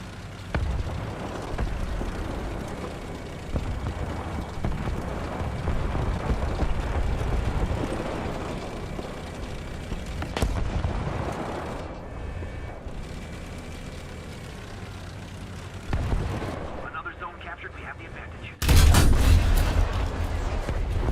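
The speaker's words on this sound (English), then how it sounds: "Somebody fired artillery, man." Artillery fire and battle noise from War Thunder with a Challenger 2 (2F) main battle tank, a continuous loud rumble of blasts and engine roar, with a sharp heavy impact near the end.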